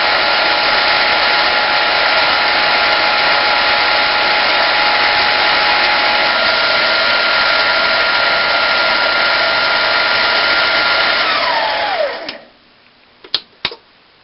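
A Harbor Freight 7x10 mini metal lathe turning metal gives a loud, steady motor whine for about twelve seconds, then winds down in pitch and stops, followed by a few sharp clicks.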